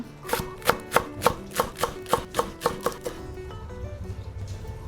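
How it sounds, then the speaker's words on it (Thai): A knife chops culantro (sawtooth coriander) on a board for a fresh shrimp papaya salad, giving about ten sharp, evenly spaced, close strikes that stop near the end, followed by softer kitchen handling noise. "หั่นผักชีฝรั่ง"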